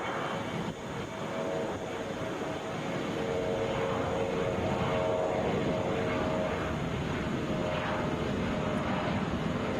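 Delta Boeing 717 airliner at Atlanta airport, a moderate, steady jet engine rush with faint tonal whine lines, heard from some distance and continuous throughout without voices.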